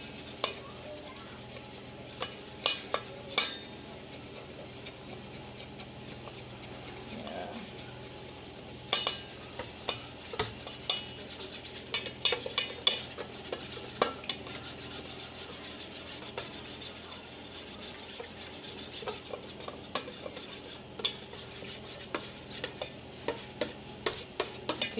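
A spoon stirs and scrapes through a thick whitening cream mixture in a bowl to dissolve lumps, producing soft continuous rubbing with frequent sharp clicks and taps against the container, fairly quiet, no voices.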